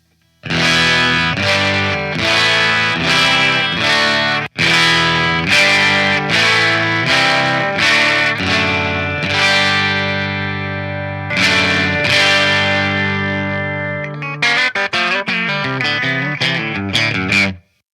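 Electric guitar tone test set against an Anderson Telecaster, with distortion and chorus effects: sustained strummed chords and ringing notes, then a quicker run of picked notes near the end, loud and alone.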